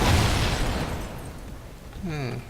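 A large explosion in Call of Duty Ghosts, a loud booming rumble that fills the start and slowly decays, followed by a brief voice-like sound near the end.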